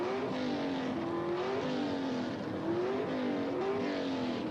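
Two drag racing cars, a Hemi-powered Plymouth Volare and a small-block Chevrolet, roaring hard off the starting line at the 1979 NHRA Gatornationals, loud sustained engine howl with rising pitch sweeps as they accelerate, no talk.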